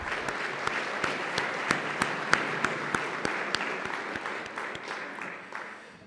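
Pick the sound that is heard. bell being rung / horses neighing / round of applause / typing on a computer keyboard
round of applause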